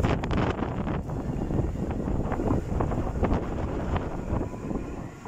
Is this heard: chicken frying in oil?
no